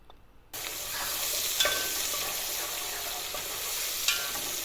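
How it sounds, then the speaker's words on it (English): Red onion hits hot cooking oil in a pot, starting after a brief quiet moment, then a steady, close sizzle continues throughout with small spits and crackles. "some cooking oil into the cooking pot, and then some red onion right there. I'll fry the onion until it caramelizes."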